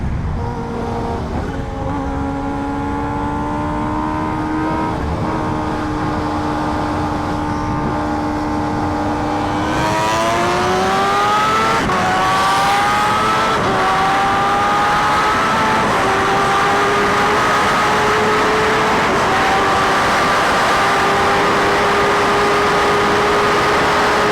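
Kawasaki Ninja H2R motorcycle at high speed, its engine screaming steadily as it climbs through the gears with rising pitch, loud and continuous under heavy wind rush.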